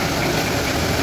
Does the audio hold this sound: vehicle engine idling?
yes